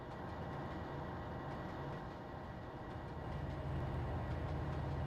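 Railway cars rolling by in Trainz Simulator 2 on Cajon Pass, a steady loud low rumble with a dense rail roar that swells slightly toward the end, with no voices.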